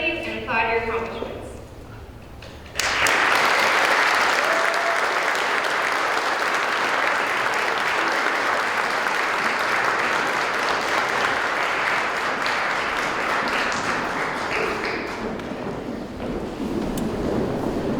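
A large audience bursts into sustained, loud applause at a Rensselaer Phalanx tapping ceremony, following a brief stretch of talking and lasting steadily until it gradually fades near the end.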